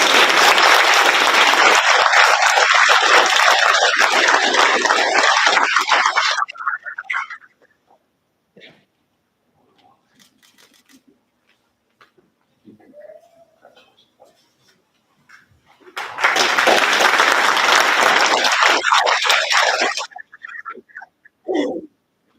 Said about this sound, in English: if you would all join me in a round of applause